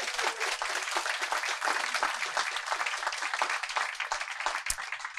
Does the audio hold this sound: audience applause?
yes